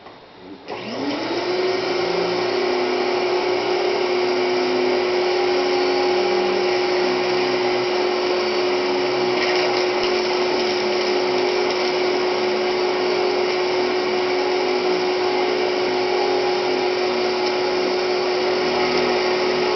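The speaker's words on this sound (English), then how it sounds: "Not a bad vacuum, not too loud." A vintage Eureka Eaton Viking vacuum cleaner switches on and spins up, then runs at a steady, loud, even whine with a constant motor hum, close by and alone.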